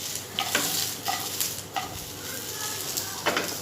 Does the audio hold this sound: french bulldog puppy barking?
no